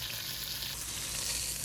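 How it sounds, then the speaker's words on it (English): Beef stew meat searing in a pot gives a soft, steady frying sizzle, faint and continuous over a short stretch with no talk. "once your meat has been seared"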